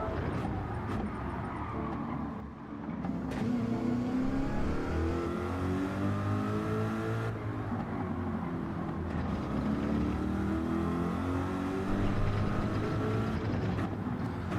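Porsche 911 in Gran Turismo 7 drives with a steady engine drone, rising and falling through gears as it revs, continuous and loud for the whole stretch.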